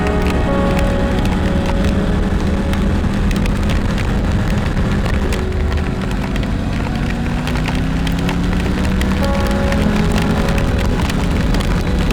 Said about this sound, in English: bits of hail mixed in with this rain.